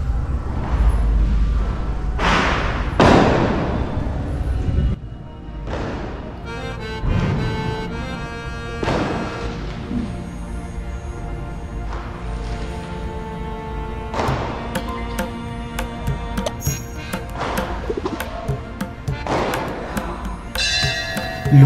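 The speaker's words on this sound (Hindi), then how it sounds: "दिवाली के दिन जैसे आतिशबाजी हो रही थी वैसे ही आपको आज वीडियो में मेरी आवाज़ के पीछे सुनने को मिल रही होगी" Fireworks at a Khatu Shyam Ji temple festival in Durg, Chhattisgarh, with about a dozen booming bursts spread irregularly, some near and heavy, others lighter and crackling, over a steady crowd background.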